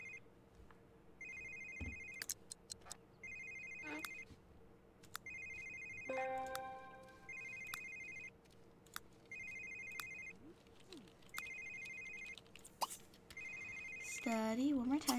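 A phone ringtone in The Sims 3 repeats in regular bursts throughout, a short burst roughly every two seconds, with other game sounds and a rising tone near the end; no one speaks.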